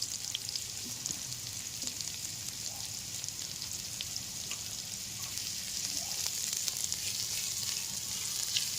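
Chopped onion and garlic fry in hot mutton fat in a village kitchen for chowmein, giving a steady, dense sizzle with faint crackles throughout and no talking.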